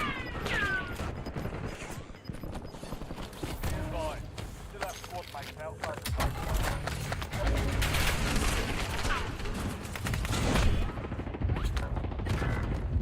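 Rapid gunfire from many directions in the Call of Duty battle royale on Rebirth Island, dense bursts and single shots stacking into a busy, continuous firefight with game effects layered over it.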